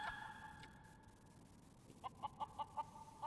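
In Final Fantasy XIV, a chicken gives a quick series of five or six soft clucks at a steady rhythm, faint and distant, after a held electronic tone from the game.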